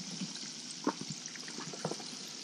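Catfish frying in hot oil, faint steady sizzle with a few soft bubbling pops and small clicks scattered through, heard from close by at low volume.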